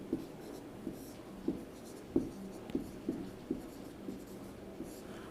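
Pen writing out a maths age problem on paper, a series of short scratchy strokes tapping out at a steady, slightly uneven rhythm, close and soft, no voice over them.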